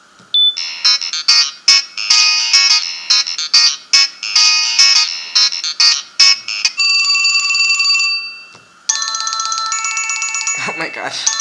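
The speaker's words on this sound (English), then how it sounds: "Yep, phone ringtone, notification ringtone." Loud old LG phone ringtone playing alone: a bright melodic tune of repeated chiming notes, then a sustained electronic tone and a final warbling alert pattern.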